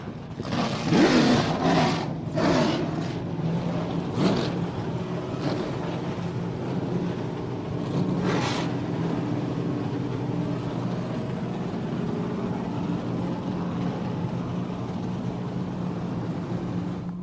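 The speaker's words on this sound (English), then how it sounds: "Ladies and gentlemen, start your engines!" TA2 race car engines starting up at Watkins Glen International for the Franklin Road Apparel Classic feature, a steady loud roar of several engines idling with brief revving bursts early on, wind buffeting the microphone.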